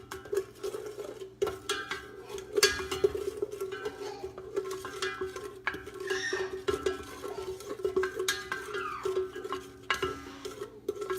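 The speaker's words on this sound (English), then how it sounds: "grab a wooden spoon here and just melt that over the stove" A wooden spoon stirs a pot on the stove while ingredients melt for a creamy sweet potato and rosemary soup, with soft, irregular scraping and knocking against the pot under a steady low hum.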